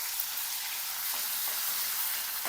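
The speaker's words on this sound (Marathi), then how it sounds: "थोडं जिरं, अद्रक लसूणचं पेस्ट, त्याला चांगलं परतायचं" Cumin and ginger-garlic paste sautéing in hot oil in a wok make a bright, continuous hiss with faint stirring clicks, ending abruptly.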